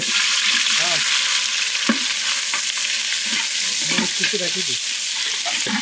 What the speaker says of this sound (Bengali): দিয়ে দিলাম রসুন বাটা দিয়ে দিই